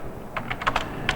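Java code being typed on a computer keyboard: a quick run of about half a dozen light, crisp key clicks at an irregular pace, close and moderately quiet, with no voice.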